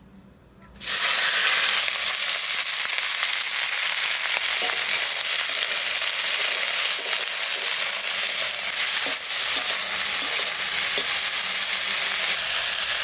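Dried chillies and mustard seeds hit hot oil, bursting into a loud, continuous hissing sizzle that holds steady throughout.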